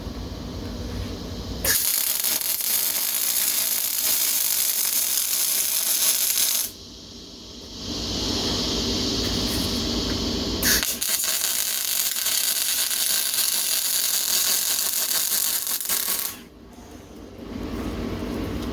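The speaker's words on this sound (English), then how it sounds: "I do love MIG welders" A MIG welder fires long, harsh crackling buzzes while tack welding metal, two sustained bursts of several seconds each, loud and close, separated by brief pauses with only faint background noise.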